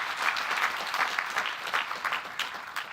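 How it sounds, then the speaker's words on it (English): Steady applause from a sizable audience at a university graduation ceremony, a dense, even patter of clapping that carries on throughout without voices. "Can we give Stephen a bigger round of applause, please?"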